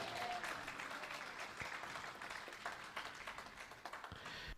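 A church congregation applauds in sustained, dense clapping that fills the space evenly throughout, with a faint voice briefly audible beneath it.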